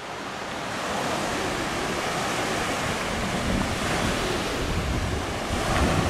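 Continuous ocean surf roaring close by on El Hierro island, a broad steady wash that swells slightly louder toward the end, with wind noise mixed in.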